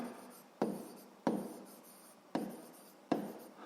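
A pen writes on paper up close: four sharp scratchy strokes, each starting with a crisp tap and fading into a soft scrape, with short pauses between them.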